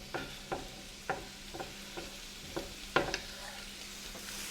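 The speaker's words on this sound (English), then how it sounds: "we're going to saute these for about 4 minutes till the vegetables begin to get soft, but not completely wilted" Thin strips of cabbage sautéing in a skillet for beef chow mein, a soft low sizzle broken by a series of spaced spatula scrapes and taps, faint and close.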